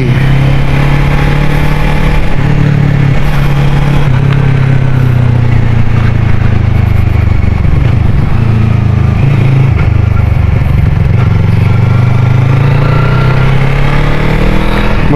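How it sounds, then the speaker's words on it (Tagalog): An FKM Fekon Falcon X400 motorcycle engine runs steadily and loudly up close, a deep droning hum with slight shifts in pitch as it rides along, no voices. "Sarap pala gamitin ng motor na to."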